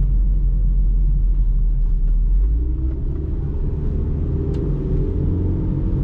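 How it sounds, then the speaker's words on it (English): A 2014 Proton Saga 1.3 FLX facelift with an automatic CVT gearbox drives along, giving a steady, close low rumble of engine and transmission noise with a faint whine, and no talk. "Kalau CVT gearbox memang dia bunyi kuat sikit."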